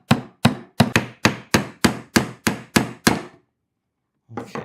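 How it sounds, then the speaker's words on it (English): Hammer gently tapping small nails into a beeswax-coated cedar wood bee hive frame; about ten evenly spaced, crisp knocks in a steady rhythm, then a pause and one softer tap, close and clear. "And gentle with the hammer. Get that kind of started."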